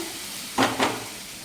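Spiced potato filling fries in a pan, giving a steady hiss with two short, brighter bursts of sizzle close together, as if from stirring.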